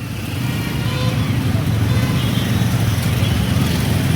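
Steady, close road-traffic rumble in a jam at Mankapur in Uttar Pradesh, near its railway crossing: a dense low engine drone from cars and motorcycles that holds even and continuous throughout, with no clear horns or separate passing vehicles standing out.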